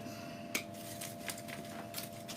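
Pruning shears snip through grapevine at the joints: one sharp cut near the start and a few softer clips afterward, close by and moderately loud over a steady room hum.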